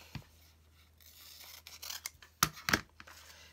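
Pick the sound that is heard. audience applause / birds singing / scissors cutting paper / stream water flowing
scissors cutting paper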